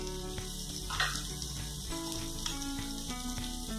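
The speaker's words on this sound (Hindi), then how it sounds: "बस हमने इसको हल्का सा फ्राई कर लिया है" Vegetables for Mumbai-style pav bhaji fry lightly in a pan, giving a steady low sizzle with faint stirring ticks throughout, alongside a persistent tonal hum.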